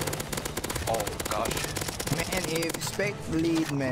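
Rapid automatic gunfire in the video game CS:GO during a zombie-escape boss fight, dense repeated bursts running nearly throughout, with a player talking over the shooting.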